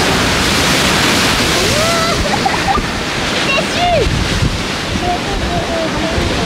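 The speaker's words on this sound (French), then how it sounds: "des belles vagues comme ça." Large swell breaking along the shore at Capbreton, a loud, continuous roar of surf with heavy wind buffeting the microphone; a few brief voices and calls surface faintly over the crashing water.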